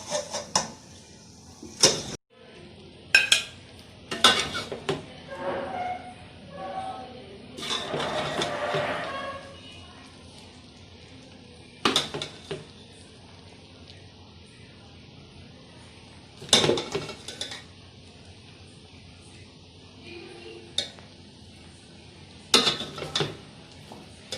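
Biryani rice is served from a pot with scattered sharp clinks and scrapes of a spoon against metal, spaced out over a quiet background, with a soft voice speaking briefly in the middle.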